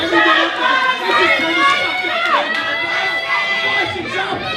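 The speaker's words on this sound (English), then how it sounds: "That's the crowd behind Bison." Loud arena crowd at a professional wrestling show cheering for wrestler Bison, a dense continuous roar of shouts and chatter with excited voices throughout.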